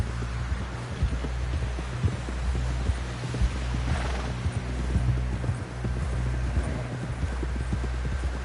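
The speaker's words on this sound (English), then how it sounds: "Someone help John down off this horse." Rapid, rhythmic hoofbeats of a galloping horse in Red Dead Redemption 2 pound steadily throughout over a low rumbling background.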